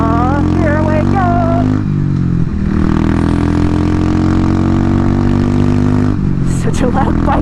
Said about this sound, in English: Such a loud bike.